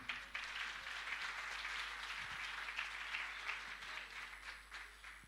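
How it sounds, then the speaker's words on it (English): A round of audience applause at an anniversary celebration in a Kigali hotel hall, a faint, steady patter of clapping heard from some distance that holds throughout and tapers slightly at the end. "Another round of applause, please."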